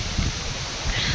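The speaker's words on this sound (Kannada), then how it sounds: "ಗಾಳಿ ಮಾತ್ರ ಏನು ಜೋರು ಗಾಳಿ ಬಿಸ್ತೈತೆ ಗೊತ್ತಾ." Strong wind blows steadily across the hilltop at Nandi Hills, a loud, broad roar with gusty surges and no voices.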